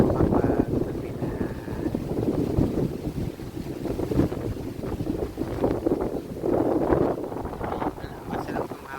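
Strong wind gusting outdoors on Siquijor island, a low rushing buffet against the microphone with swelling gusts, while a person talks intermittently over it.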